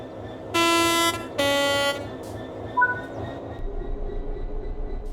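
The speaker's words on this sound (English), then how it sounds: "Apply some throttle to get the train moving." Simulated train in Train Sim World 3 pulling away: two loud horn blasts, a brief clank, then a low rhythmic traction motor rumble building as the train begins to move.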